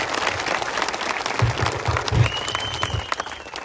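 A crowd at a political rally breaks into sustained applause, dense clapping with a few louder claps standing out, fairly close and lasting throughout with a faint voice in the background.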